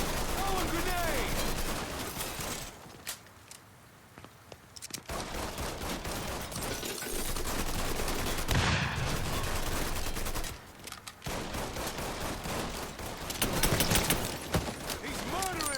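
Dense gunfire from a shootout in the crime video game Mafia: long stretches of rapid repeated shots with brief lulls, loud and close, with shouting voices mixed in.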